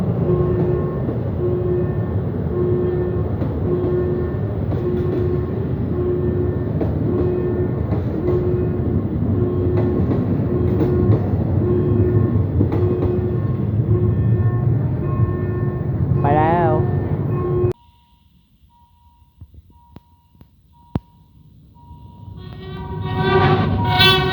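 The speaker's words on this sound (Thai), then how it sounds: "กำลังออกจากสถานีรถไฟป้ายหยุดรถพญาไทแล้วนะครับ" A special heavy track-maintenance train departs Phaya Thai railway halt in Bangkok, its loud, steady rumble and rail noise with tonal horn-like hums running for about seventeen seconds, then dropping to near silence before swelling again.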